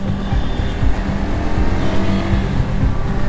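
A vehicle with a modified exhaust passes close by on a road in traffic, its loud, rough engine note rumbling and revving steadily throughout.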